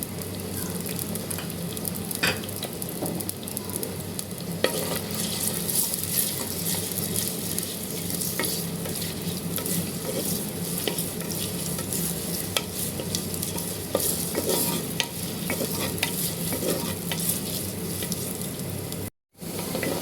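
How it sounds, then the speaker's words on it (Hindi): Onions frying golden in hot oil for beef pasanda, a constant loud sizzle with steady stirring scrapes running throughout and a brief drop-out near the end. "प्याज को हमें गोल्डन फ्राई करना है।"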